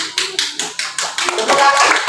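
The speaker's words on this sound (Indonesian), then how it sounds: "Tepuk tangan dong." A third-grade class clapping hands together in a classroom, a handful of distinct rhythmic claps close by that quickly merge into fuller group clapping, with faint voices underneath.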